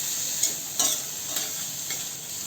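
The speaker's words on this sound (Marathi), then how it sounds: "गवार टाकल्यावर परतून घेऊ चांगलं" Cluster beans (gavar) sauté in a pan for a potato and gavar curry, a steady close hiss of frying with a few brief scraping stirs of a spatula, no voices.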